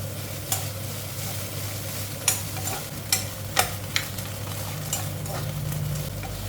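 Fried tilapia dry-roasts in a pan for larb, a soft continuous sizzle with scattered sharp scraping clicks from stirring, close and moderately quiet.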